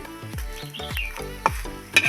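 Pumpkin leaves fry in a pan with a soft sizzle, while a utensil stirs and scrapes against the metal in quick, repeated strokes.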